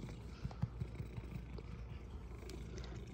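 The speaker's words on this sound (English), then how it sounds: "Big purr." A cat purrs softly and low, rumbling steadily and close, quiet and continuous with a few slightly stronger pulses.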